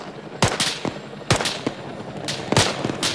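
Sharp gunshots in the military shooter ArmA 3 ring out in scattered bursts of two or three, some close and loud, others farther off, over a steady background hiss with no talking.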